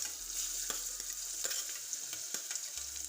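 Spices, curry leaves, turmeric and chopped chillies sizzle in hot oil for sabudana khichdi, a steady bright frying hiss with soft stirring taps close up and no voices.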